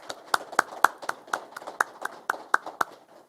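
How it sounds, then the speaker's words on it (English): Sparse, evenly spaced claps ring out at a police academy graduation ceremony in Detroit, a light, thin round of applause of about ten sharp hand strikes that fades out. "Let's give them a round of applause."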